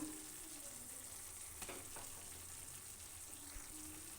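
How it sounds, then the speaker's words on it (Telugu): Scored boiled eggs frying in a pan for an egg curry: a faint, steady sizzle with a couple of soft stirring scrapes, heard close and alone without talking. "బాయిల్ చేసిన ఎగ్స్ ముందే కాట్లు పెట్టేశాను ఇలా వేసి ఫ్రై చేసుకోవాలి"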